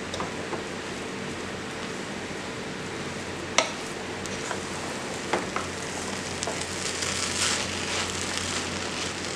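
Sri Lankan yellow rice with pepper is stirred in a pan over low flame, giving a continuous close sizzle and scraping with a few sharp clicks of the spoon against the pan.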